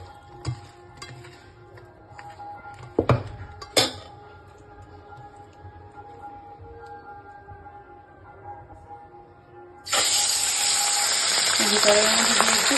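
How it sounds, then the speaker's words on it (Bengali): Bashpata fish frying lightly in a pan breaks into a loud, dense sizzle only in the last few seconds, after quieter stretches of scattered clinks and knocks from pots and utensils. "দেখো মাছগুলো ভাজা হয়ে গেছে"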